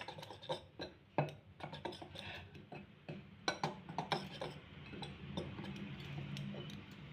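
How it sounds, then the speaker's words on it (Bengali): A spoon mixes dhokla batter ingredients with sugar and salt in a bowl, giving soft, irregular clinks and scrapes that fade into a quieter swirl of stirring, faint and close. "এবার আমি এটা ভালো করে একটু মিশিয়ে নেব।"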